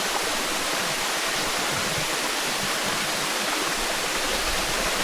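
Waterfall at Mariwariw Lagoon, a steady, dense roar of falling water that fills the whole range at close distance, with no talk over it.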